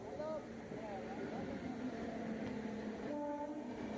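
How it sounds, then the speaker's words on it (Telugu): The Brindavan SF Express arriving at a platform, a low steady rail rumble with tonal horn-like sounds and station murmur, faint voices in the background. "ఫస్ట్ ప్లాట్ఫామ్లో అయితే బృందావనం ఎక్స్ప్రెస్ వచ్చేసింది"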